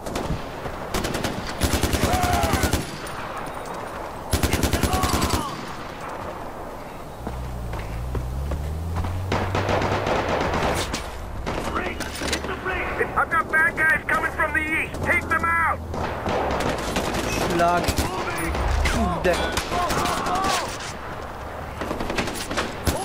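Bursts of automatic gunfire and scattered shots ring out in a Far Cry 4 firefight at an airfield, loud and close, mixed with hurried footsteps and shouted voices between volleys.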